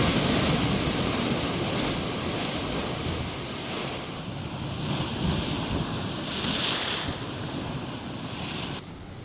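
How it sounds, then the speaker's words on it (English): Ocean surf crashing and washing ashore in loud, rolling surges on the central Oregon coast, with heavy wind buffeting the microphone and no voices. "all of a sudden those huge waves come through"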